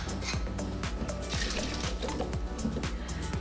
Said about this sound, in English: give these a good rinse